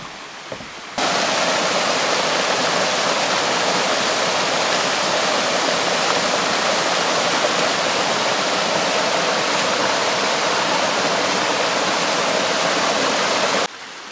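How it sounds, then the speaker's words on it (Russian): Mountain river in Abkhazia flowing over rocks, a loud, dense, continuous roar of rushing water that starts abruptly after a brief quiet moment and cuts off near the end. "Ничего себе, так течет речка."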